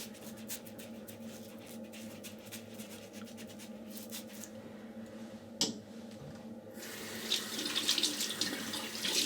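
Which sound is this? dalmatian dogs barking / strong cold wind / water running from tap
water running from tap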